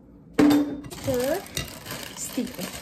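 Food being stirred in a pot while preparing dinner at home: a utensil scrapes and clinks against the pot in short, uneven strokes, fairly close, with some light kitchen clatter around it.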